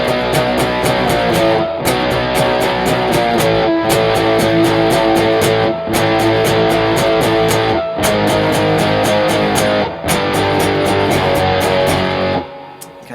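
Distorted electric guitar power chords from a song, strummed in loud, steady bursts with brief breaks between sections, played alone without talk.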